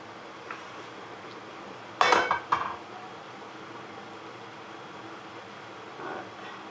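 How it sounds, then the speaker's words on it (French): Soft clatter of sautéed leaf spinach being put onto a plate, a short cluster of light dish and utensil knocks in a quiet kitchen, followed by a faint scrape later. "Je vais mettre mon épinard dans une assiette."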